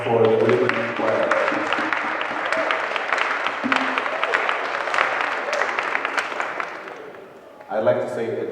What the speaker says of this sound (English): Ladies and gentlemen, another round of applause for the Winneba Choir.